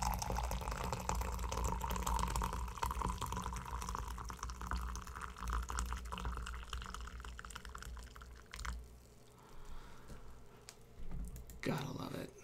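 Bigelow's Peppermint Bark Minty Chocolate Tea poured into a cup, a steady trickling stream that thins to drips and stops, close and soft, with a voice speaking over it.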